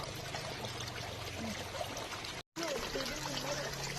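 A small stream's water runs steadily outdoors with a continuous broadband rushing and trickling texture, interrupted briefly by a cut near the middle, with faint low hum beneath.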